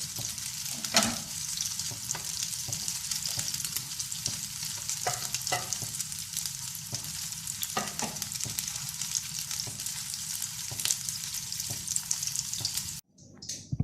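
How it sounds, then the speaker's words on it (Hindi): Chapli kababs frying in a pan over low flame give a continuous close crackling sizzle, with a few sharp pops and spatters and a brief quiet near the end. "ये देखें व्यूअर्स, ये चपटी कबाब फ्राई हो गए हैं"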